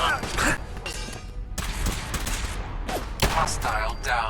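Fallout 4 gunfire rattles through fast, dense bursts of shots and sharp impacts. A voice can be heard faintly under the shooting.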